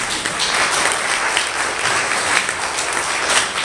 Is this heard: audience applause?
yes